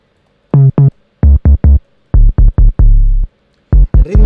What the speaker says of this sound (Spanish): Yo puse un bajo de 808 que suena así.